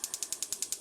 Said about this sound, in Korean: 불을 켜시고요.